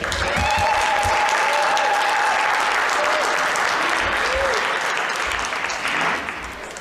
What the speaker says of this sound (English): Let's give the President a better round of applause.